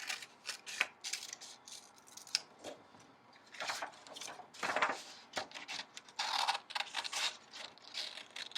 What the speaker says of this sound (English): So then I'm going to cut those things out.